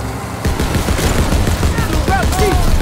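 Mounted machine gun firing in a World War II shooter game, sustained rapid bursts layered with explosions and vehicle noise, with shouted voices cutting through the din.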